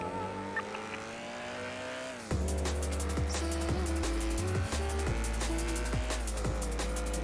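A car engine in GTA 5 revs and shifts through gears, its whining pitch rising and dropping sharply at each change, loud and continuous against a game background.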